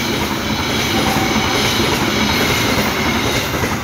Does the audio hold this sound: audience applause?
no